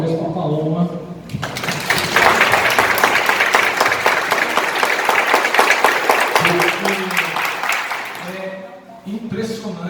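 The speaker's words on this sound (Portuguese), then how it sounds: "E eu queria uma salva de palmas especial," Audience applause for Paloma, a maker showing her products, fills the middle of the clip as a dense, loud burst of clapping, with a voice talking before it starts and again as it fades.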